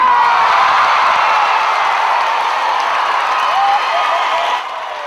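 A large rodeo crowd roars and cheers during a barrel-racing finals run, a loud sustained wall of voices that holds steady and then drops slightly near the end.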